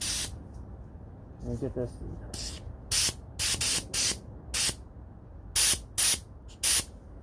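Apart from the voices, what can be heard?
airbrush spraying a dust coat of Alclad chrome paint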